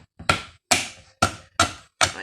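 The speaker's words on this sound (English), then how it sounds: "a hammer," A hammer strikes a metal hand rail during installation, five sharp, evenly spaced taps, each ringing briefly before fading, close and clear with no talk.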